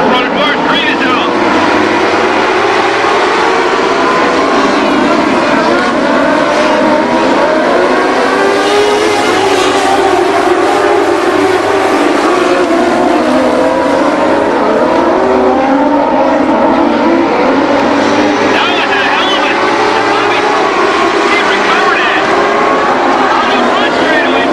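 Dwarf cars race at Barona Speedway just after the green flag, a loud, continuous roar of several engines dominating throughout, with a track announcer's voice faintly mixed in.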